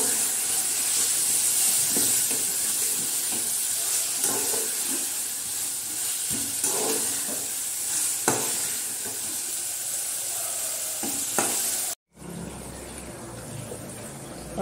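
Hot water and fish go into masala already fried in oil, giving a steady close hiss and sizzle with soft stirring knocks and scrapes throughout, ending in a brief cut to a quieter background.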